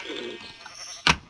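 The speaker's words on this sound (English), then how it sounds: "We're gonna mess up that sheep that I heard." A Minecraft sheep gives a short bleat over quiet game ambience, followed by a sudden loud, brief thump near the end.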